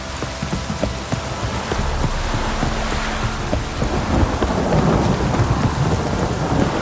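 Heavy rain pours steadily in a Witcher 3 game scene while thunder rumbles low and builds, a dense continuous roar with no voices.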